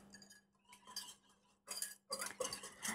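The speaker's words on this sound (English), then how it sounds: "And then I'm just going to whisk that all together." A tofu marinade whisked in a bowl, with light metallic clinks and quick scraping bursts that grow louder toward the end, close and fairly faint, no voices.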